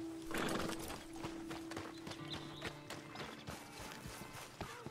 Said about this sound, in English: Hitch this horse.